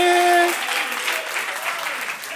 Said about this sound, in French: Ce qui est bon, c'est que lui-même, il applaudit.